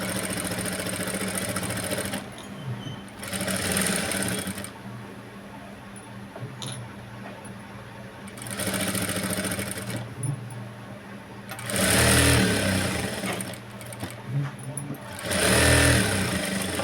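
A sewing machine stitches blouse sleeves in several bursts of fast, steady whirring, each lasting a second or two and separated by quieter stretches where handling noise and a low background hum remain.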